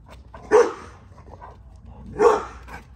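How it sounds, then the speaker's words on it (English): A house guard dog gives two sharp barks about a second and a half apart, fairly close, with quiet room background between them. "he's a real guard dog, bro"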